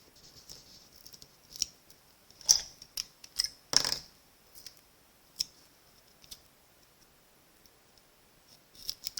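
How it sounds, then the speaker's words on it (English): Scissors snip a small dimensional foam adhesive in half for a card project: a handful of crisp, close clicks and short snips spaced irregularly over otherwise quiet room tone. "I'm going to take one of those dimensionals and cut it in half"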